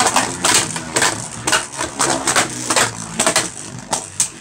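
Beyblade Burst spinning tops, including Cho-Z Valkyrie, crash again and again into the walls of a plastic stadium, giving loud, sharp, irregular clacks and grinding bursts close by.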